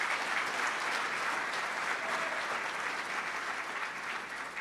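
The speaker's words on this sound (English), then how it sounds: "let's hear it for Bob Baffert there" An audience at a Kentucky Derby trainers dinner in Louisville applauds, a dense, steady clapping from a room full of people that eases slightly toward the end.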